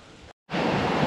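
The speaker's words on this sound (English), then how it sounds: "Yeah, it's raining." Rain falls on a lake around a bass-fishing boat, a broad roaring hiss that drops out briefly after a third of a second, then returns louder and steady.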